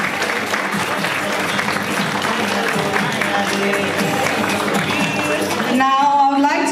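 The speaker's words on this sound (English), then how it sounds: "Can I have a big round of applause," A big round of applause at a wedding reception, loud clapping mixed with crowd noise and background music throughout, with the music taking over near the end.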